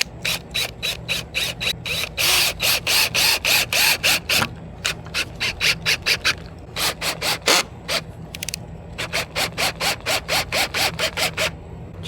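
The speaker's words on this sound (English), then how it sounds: "Now I'm going to run the screws in it." A power drill drives screws into a retractable gate mount, whirring in several bursts that rise and fall, with short pauses between runs. Close and fairly loud, with no talking.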